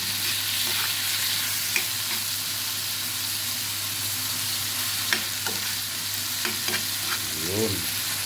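Shrimp gambas sizzle loudly in a pan of oil seasoned with paprika, a constant close frying hiss punctuated by repeated scraping stirs and utensil taps throughout, with no speech.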